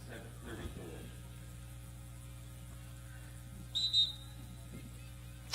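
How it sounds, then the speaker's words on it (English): A referee's whistle sounds during a women's college lacrosse game, SUNY Oswego against Potsdam, as a short, fairly clear blast standing out over faint background hum and distant crowd noise. "As a whistle is blown"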